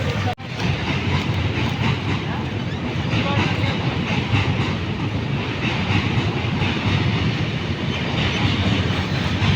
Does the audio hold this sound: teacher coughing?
no